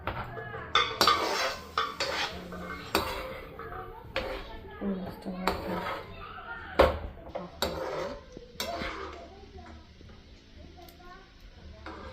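A cooking pot's lid is lifted and prawn curry stirred in a home kitchen, with metallic clanks, scrapes and clinks of utensils against the pot, heard under ongoing talk from an adult and children.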